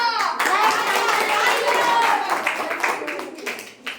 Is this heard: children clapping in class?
yes